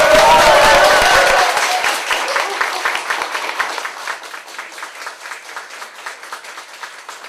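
Audience applause at a Korean party leadership campaign rally, loud and dense at first, then thinning into scattered claps that fade over several seconds.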